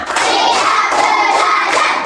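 A class of second-grade children clap together in a counting clap game during a school lesson, a dense, steady mass of many small hands at close range with no talking over it.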